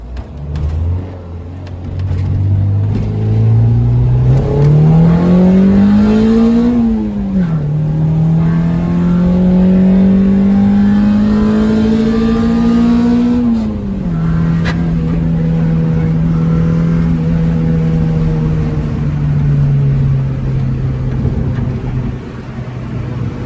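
An Acura Integra engine with a B20 VTEC swap revs hard and climbs in pitch through the gears, loud and close, with a sharper, higher-pitched howl as it winds up into VTEC.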